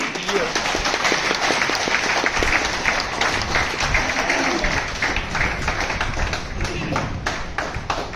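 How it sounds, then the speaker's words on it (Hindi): Audience at a recognition ceremony in Indore applauds loudly, many hands clapping in a dense, sustained rhythm with rapid individual claps standing out, while a voice talks over the applause. "आपकी जोरदार तालियों के बीच में I invite mister Manik Vitthalrao Dage"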